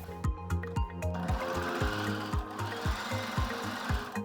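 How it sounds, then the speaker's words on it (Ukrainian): A domestic sewing machine runs a straight line of stitching on fabric for lingerie, its needle thumping in a quick, even rhythm close by with the motor whirring underneath, no talking. "я зараз прокладу тут пряму строчку та зріжу усе зайве"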